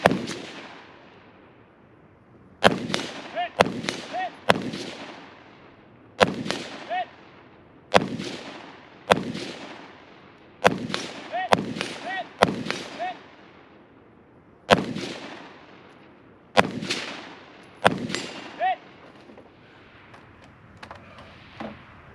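Repeated gunshots at a run-and-gun shooting competition, fired in quick bursts of two or three with short pauses between, each crack sharp and echoing, spread over about twenty seconds with no talk.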